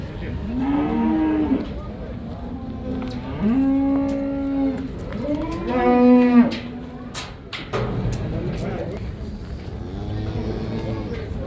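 Cattle at a livestock market in Karakol, Issyk-Kul, give several long, loud, close moos one after another, with market bustle and faint traffic behind them.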